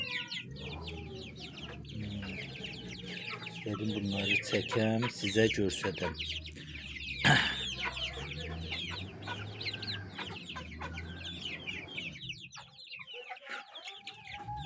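Around thirty baby chicks cheep in a dense chorus of high peeping, close and continuous, while a person talks over them and adult hens cluck now and then.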